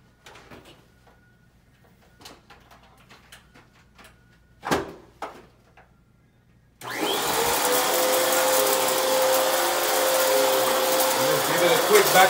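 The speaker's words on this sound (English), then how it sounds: "You have to vacuum the carpet." After a few quiet clicks and a thud, a vacuum cleaner switches on and runs over carpet with a loud, steady whine and rumble.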